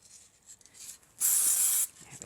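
Spray glue hisses onto card in one sharp, close burst of about half a second, set between quiet handling rustles and soft scratches.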